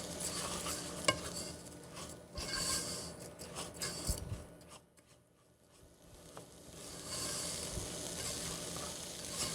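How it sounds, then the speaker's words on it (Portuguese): Rice frying in a pan for arroz farofado is stirred with repeated scraping strokes over a constant sizzle, which dips briefly in the middle before the stirring picks up again, close with no talk. "Deixa eu dar mais uma mexidinha no arroz."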